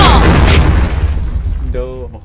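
A loud grenade explosion in the Point Blank shooting game, a heavy booming blast that rolls off and fades over about two seconds, with a short voice-like game sound near the end.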